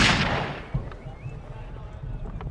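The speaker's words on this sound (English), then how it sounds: "you hear a gunshot, a very loud gunshot" A very loud gunshot sound effect cracks out once near the start, followed by a dull thump and low rumbling reverberation that fades slowly.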